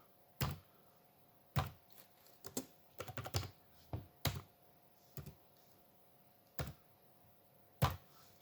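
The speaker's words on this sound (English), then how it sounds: "I can type in a program here" Someone types a short program on a tiny computer keyboard, producing sparse, irregular clicking keystrokes, single taps and a quick cluster, close and quiet with no speech.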